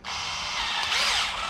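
A power drill with a drill bit whirs steadily and loudly, close by, for about a second and a half, boring holes for neodymium magnets in a custom box.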